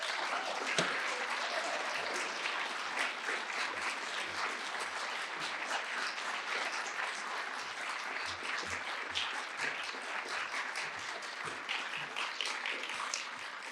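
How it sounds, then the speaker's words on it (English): Sustained audience applause following a youth-in-care advocacy speech at a talk event, dense steady clapping from a crowd filling the whole stretch without a break. "Round of applause."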